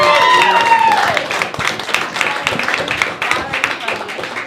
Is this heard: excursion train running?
no